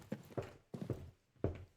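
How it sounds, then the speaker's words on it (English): Footsteps sound in the horror game Dad's Monster House: a handful of soft, close, hollow thuds in uneven pairs across a short stretch, with no voices. "I don't like that. Footsteps."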